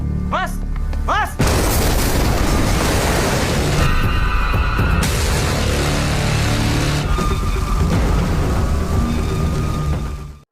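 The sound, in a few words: explosion at Candi Cafe in film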